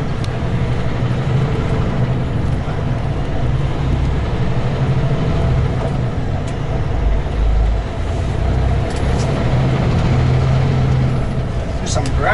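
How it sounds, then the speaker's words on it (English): A vehicle drives along a gravel road for about nine kilometres, giving a steady, loud low rumble and crunch of tyres on loose stones that persists without pause, with a faint voice heard under it. "There's some gravel driving."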